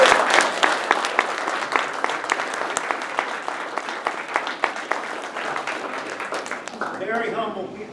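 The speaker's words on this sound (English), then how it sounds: "I want you to please give them a round of applause." Audience at a military police brigade social event giving a round of applause, dense sustained clapping from a crowd close by that tapers near the end as a voice begins speaking.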